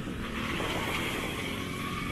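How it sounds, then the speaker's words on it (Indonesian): Motorbikes pass by on a road in a steady, loud wash of engine and traffic noise with no talking. "Banyak motor."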